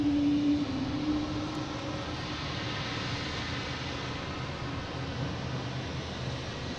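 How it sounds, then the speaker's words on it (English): A JetBlue Airbus A320 jet airliner at Boston Logan airport produces a steady broadband engine rush, with a low hum that fades slightly after the start and holds level. "Here is JetBlue heading to Orlando, an A320"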